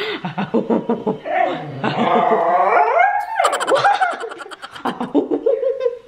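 Dogs growl and bark in bursts with rising and falling vocal tones, fairly loud and close, a few snorting and whining sounds mixed in.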